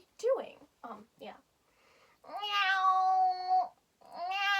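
A person imitates a cat's meow and drawn-out yowl in a feline-vocals demonstration, giving several short mewing calls and then a long, strongly pitched, wavering yowl, close and loud with brief pauses between.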